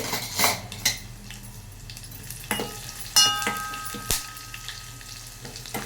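A tempering of cumin, coriander seeds, fenugreek, mustard seeds, dried red chillies, onions and garlic crackles quietly in hot oil, broken by several sharp clinks of a metal utensil against the pan.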